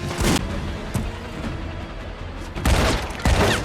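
Gunfire erupts during a police confrontation with suspects in a gold BMW, heavy bursts opening and closing the stretch with a single sharp report between, loud and close over a rumbling background.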